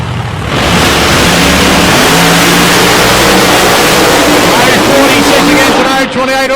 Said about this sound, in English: It's a big KB Keith Black Hemi.